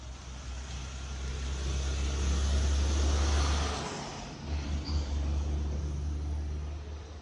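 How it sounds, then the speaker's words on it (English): A bus passes close by outdoors, its engine a heavy low rumble that swells and then eases, with a short dip before the drone picks up again. "Here's a bus."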